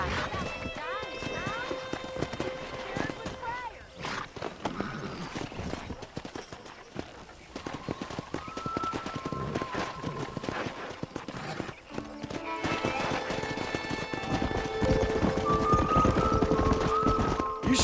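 Wild horses in the Red Dead Redemption video game gallop with steady clip-clop hoofbeats and neigh several times, with game music and characters talking over the herd.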